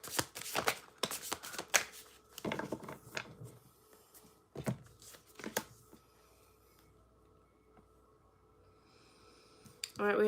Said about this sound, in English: one more shuffle and then we'll move on